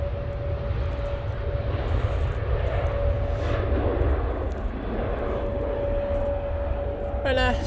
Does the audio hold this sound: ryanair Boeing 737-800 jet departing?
yes